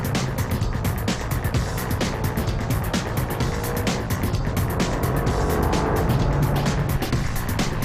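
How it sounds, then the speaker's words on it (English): Ferrari 575M Maranello engine revving and pulling away hard under acceleration, a loud, continuous roar with some tire noise that stays close and dense from start to finish, with no talking. "And the engine, see now how accelerating away goes"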